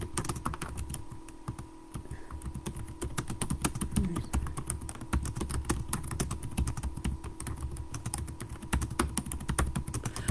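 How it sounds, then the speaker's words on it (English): Quick typing on a computer keyboard, a dense run of close, crisp key clicks with uneven rhythm over a faint steady hum, no talk. "Let me just type this very quickly."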